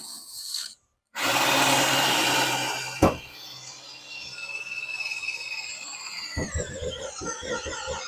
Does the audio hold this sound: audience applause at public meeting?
no